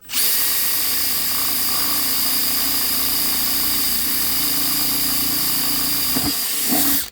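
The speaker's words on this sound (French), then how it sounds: "Donc je prends la perceuse, tac." An electric drill with its supplied bit bores a hole for a homemade poultry waterer, whining steadily and loudly for several seconds before slowing and stopping.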